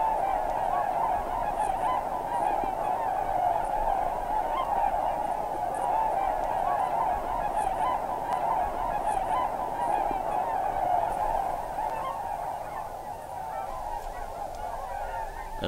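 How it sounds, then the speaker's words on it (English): A wetland flock of trumpeter and tundra swans in Wisconsin calling continuously, a dense chorus of honking and bugling notes layered together, loud and steady throughout. "the swan's ambitious chatter is heard throughout the wetlands"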